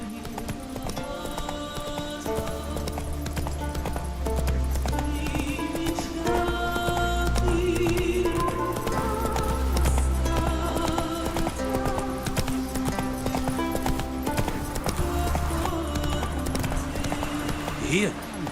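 Roach, the horse in The Witcher 3, gallops with rhythmic clip-clopping hoofbeats that run the whole way through, along with an occasional whinny, while game music and voices play over them.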